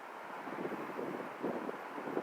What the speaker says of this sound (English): you can just hear the wind just a whipping